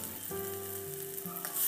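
Chopped medium tomatoes dropped into hot oil, a steady close crackling sizzle with a few sharp spits and bumps of stirring, no voices, behind a sustained low tonal hum.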